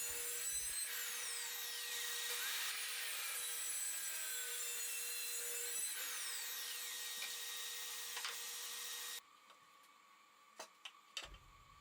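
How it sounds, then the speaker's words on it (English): A track saw running along a TSO rail guide cuts through wood panels in one long continuous close pass, its high whine steady for about nine seconds before stopping abruptly, leaving a few faint knocks. "I could then use my track saw on my TSO rail guide to break the panels down into smaller pieces"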